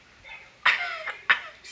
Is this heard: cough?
yes